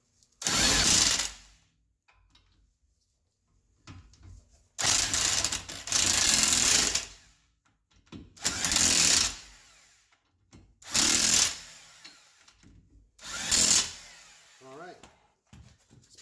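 Wrench tightening lug nuts on wheel spacers of a 1994 Nissan 300ZX Z32, five separate bursts of rapid ratcheting or power-tool whirring, each about a second long, loud and close, with silence between.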